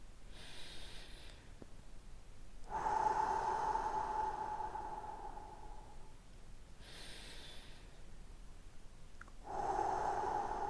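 A person takes slow, deep breaths as part of a guided relaxation, with two long, audible breath cycles, each a noisy inhale then a softer exhale, close and quiet.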